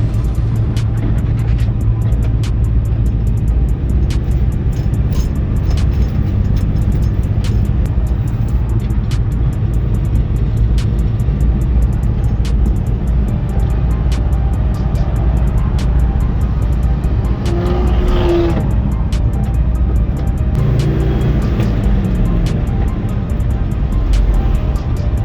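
A 1972 Dodge D100 pickup truck's engine drones steadily and loudly through the whole test drive, a constant low rumble with slight swells as the truck moves along.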